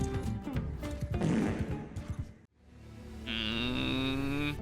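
Cow in the game Bannerlord lets out a long, loud, low moo after a burst of clattering impacts and battle noise, with a steady tone holding to the end.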